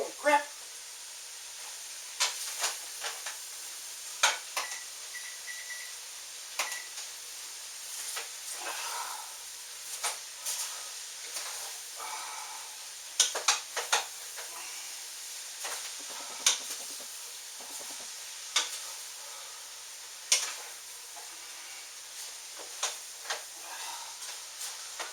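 Cabbage sweating in a soup pot gives a faint, steady sizzle and hiss with scattered ticks and clinks, while people talk over it now and then.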